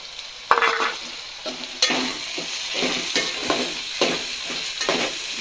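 Ginger and garlic sizzle in hot oil in a pan, with a steady close frying hiss and intermittent scraping stirs, no voices.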